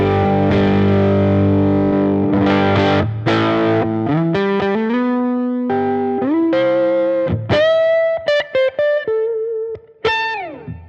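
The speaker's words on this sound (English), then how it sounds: "if we go to the neck pickup and switch to it without those sweetener blocks on," An electric guitar on its neck pickup runs through a Line 6 Helix amp model, loud and distorted, playing ringing chords and then a melodic single-note lead line with sustained bends.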